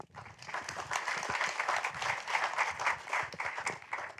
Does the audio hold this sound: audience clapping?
yes